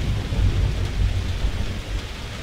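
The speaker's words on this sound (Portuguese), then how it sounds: "Ah, essa chuva não deixou olhar" Steady rain pours with low rumbling thunder during a storm scene in the video game Call of Duty, set in Rio de Janeiro, a continuous dense wash of sound with no speech.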